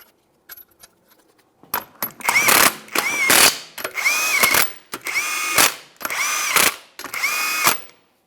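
Impact gun on a 2008-2017 Mitsubishi Lancer fastens lug nuts while the front wheel goes back on after lower control arm replacement, with six loud, close buzzing bursts after a few light clicks.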